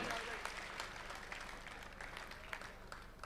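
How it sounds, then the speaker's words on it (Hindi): Applause from a mushaira audience at a Republic Day kavi sammelan in Dubai, a steady spread of clapping across a crowd filling the whole moment, fairly quiet and distant-sounding with individual claps popping through. "मैं चाहता हूँ ज़ोरदार तालियों में जनाब"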